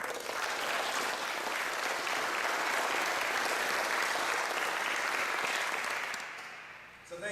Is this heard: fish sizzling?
no